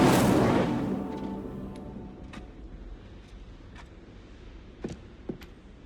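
A fire spell cast in Hogwarts Legacy: a loud whooshing burst of flame up front that quickly fades, followed by a few faint, sharp crackles and pops scattered through the quiet tail.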